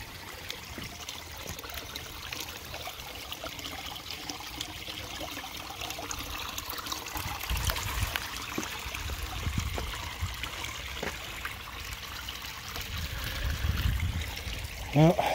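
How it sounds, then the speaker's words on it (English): Water flowing through a backyard pond filter driven by a new, stronger pump, a steady trickling and splashing stream that runs throughout at moderate level with occasional louder gushes. "I got a hell of a lot better water flow this year, the extra water flow."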